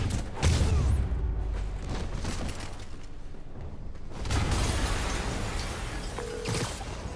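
A game explosion from Marvel's Spider-Man booms with a broad low rumble and crackling debris, then a second loud burst follows a few seconds later amid mechanical clatter.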